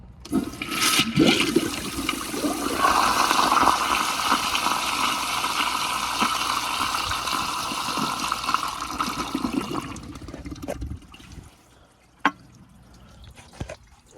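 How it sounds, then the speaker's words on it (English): A 2000 American Standard Colony toilet on a flushometer valve flushes loudly and steadily for about ten seconds with a rushing roar, then cuts off, leaving faint drips and a couple of small knocks. "so let's give it another flush"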